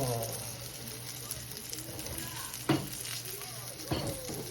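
Eggplant fries in a pan with a steady close sizzle, broken by a couple of brief stirring bumps.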